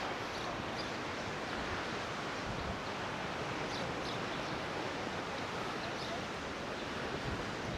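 Steady broadband roar of Mediterranean sea surf at Larnaca, Cyprus, washing continuously in the distance, mixed with some wind buffeting, with no distinct individual wave breaks.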